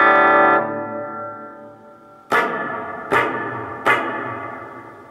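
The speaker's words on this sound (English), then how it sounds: "So now it's reverb hall." Sustained electric guitar tones through a Fender Champion 20 amp ring out with a long hall reverb tail, followed by three sharp plucked notes that each bloom and decay into spacious echo.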